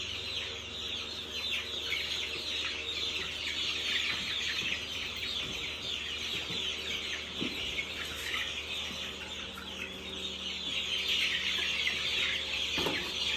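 Chickens cluck and murmur in a poultry pen, soft repeated calls layered over a steady background hum, with occasional brief sharp clucks near the end, no talking.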